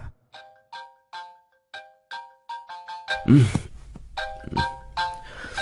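A phone ringtone plays a repeating series of bright melodic chimes in even pulses, with a short burst of a voice partway through as the ringing carries on.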